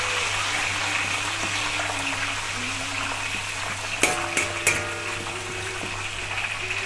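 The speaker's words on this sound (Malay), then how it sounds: "ni cara goreng pucuk ubi" Cassava shoots fry in a pot of hot oil with a constant bubbling sizzle, broken around the middle by a few sharp metallic clinks of a utensil against the pot.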